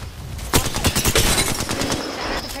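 Automatic weapon fire in the video game Apex Legends: a rapid burst of sharp, loud gunshots in a steady rhythm, then quieter scattered shots and game ambience, without speech.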